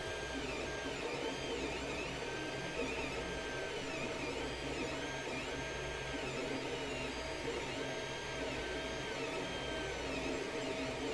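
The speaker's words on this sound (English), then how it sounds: "But it's printing" A 3D printer running a print job, its stepper motors whirring and whining in shifting tones over a steady mechanical hum, continuous and close for the whole stretch with no talk.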